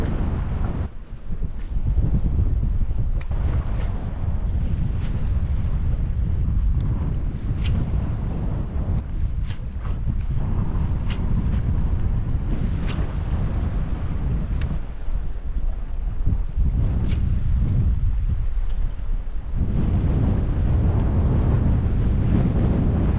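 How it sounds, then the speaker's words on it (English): Wind gusts over a lake while fishing from a boat, a loud low rumble buffeting the microphone almost without pause, with water lapping and faint knocks from the boat. "since it's nice and windy"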